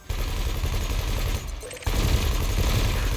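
Ship cannon and laser weapons fire in the space game Elite Dangerous: a dense, loud, continuous barrage of rapid shots that drops back briefly near the middle, then surges again at full intensity.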